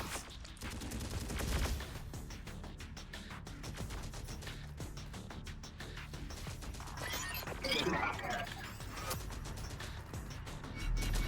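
Sustained gunfire and mechanical clatter from the Terminator Dark Fate Defiance video game, with dense repeated bursts and a louder crackling burst about two-thirds through, running steadily without speech.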